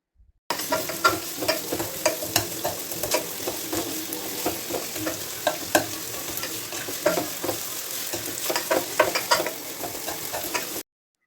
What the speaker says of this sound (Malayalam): സവാള പെട്ടെന്ന് വെന്ത് വരാനായിട്ട് കുറച്ച് ഉപ്പൂടെ ചേർത്ത് കൊടുക്കുന്നുണ്ട് എന്നിട്ട് ഒന്നുകൂടെ ഒന്ന് വഴറ്റി കൊടുക്കാം